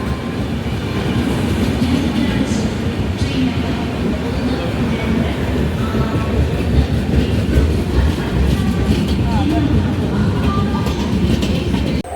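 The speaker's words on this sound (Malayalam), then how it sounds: "ഇതാണ് നമ്മളെ ട്രെയിന്." A passenger train runs steadily on its rails near Shoranur Junction, with a loud, continuous rumble and rhythmic clatter of wheels that carries through the whole stretch without a break.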